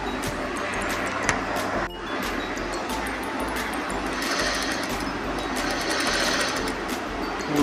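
Sewing machine stitching the folded corner of a saree, a steady close mechanical whirr running continuously throughout with a brief pause near the start.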